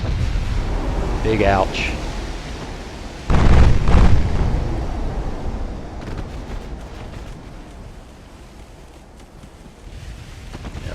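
Big naval guns firing in Ultimate Admiral: Dreadnoughts, aboard the cruiser USS Baltimore, a single heavy booming salvo with a rumbling tail, set against steady wind and sea noise, with someone talking briefly before it.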